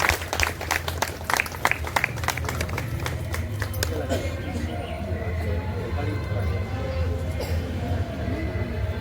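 Audience clapping welcomes a speaker at an Independence Day function in an LIC office, a burst of loud claps at the start thinning into scattered claps over a murmuring room with people talking.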